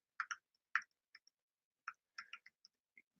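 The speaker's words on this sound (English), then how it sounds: "Typing it in." Keys clicking on a keyboard as an email address is typed, sparse quick taps in small irregular bursts, close and quiet against near silence.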